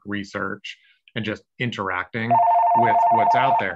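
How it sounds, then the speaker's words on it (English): A cordless phone in a public library rings with a steady electronic trill for over a second, loud and close, while a person keeps talking over it. "Apologies for the cordless phone there."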